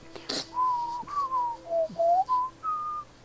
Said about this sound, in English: Whistling's as good as you're going to get.